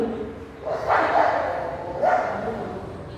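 A dog gives two short barks a moment apart at moderate distance over quiet background noise.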